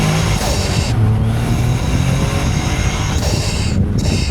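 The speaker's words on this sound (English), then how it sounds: "Let's give it a second gear pull." A Caterham 170S engine pulls hard in second gear from inside the car, a loud steady drone rising in pitch, with brief dips where the throttle eases.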